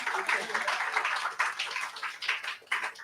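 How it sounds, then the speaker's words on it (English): Applause from an audience at a panel event during Miami Coin Art Week at the Sagamore, a steady wash of clapping lasting the whole few seconds, moderately faint and fairly close. "another round of applause"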